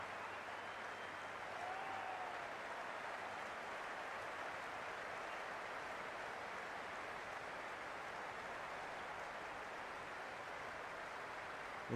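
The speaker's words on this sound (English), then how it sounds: "this crowd is already making it hard for me to be heard" Crowd at a cricket stadium before the first ball of an India versus New Zealand T20 match, a steady, dense roar of cheering and applause holding at an even level throughout, with no clear pauses.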